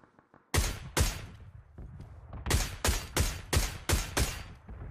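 Gunfire in the video game PUBG: a short burst of faint shots, then loud sharp reports in quick succession, several single cracks and a rapid cluster, close and unaccompanied by talk.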